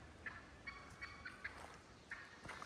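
Soft, distant clucking and gobbling calls from a wild turkey hen flushed off her nest come in short repeated bursts, faint against a quiet outdoor background.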